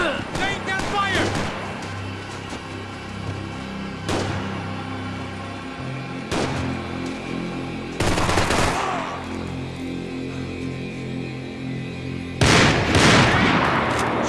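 Gunfire in the shooter game Max Payne 3: loud bursts of automatic fire and sharp shots, with heavy volleys near 8 and 12.5 seconds over a steady musical score, and a voice talking.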